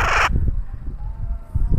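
A young bird being trained to fly gives a short harsh crow-like caw near the start, followed by a faint thin call over low wind and handling noise outdoors.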